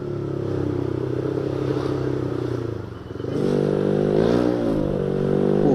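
A Honda Vario scooter on 17-inch rims hums steadily on a test ride, then the engine revs up harder and stays loud and close.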